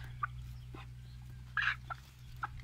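A hen gives short, scattered clucks and squawks, a few brief calls close by over a steady low hum, with no talking.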